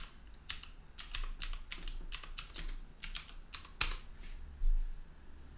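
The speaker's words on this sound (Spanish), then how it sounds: "Me va a pedir mi contraseña." Someone types a password on a computer keyboard: a quick, irregular run of close, crisp key clicks over a quiet room, with no talking.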